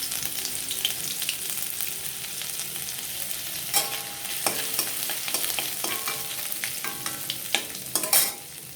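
Chopped ginger tossed into garlic already fried golden in hot oil for a dhaba-style tarka, a steady sizzle broken by repeated scraping stirs of a spoon against the pan, growing busier toward the end.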